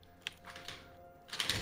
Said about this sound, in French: Le clavier de Stray quand il joue Yone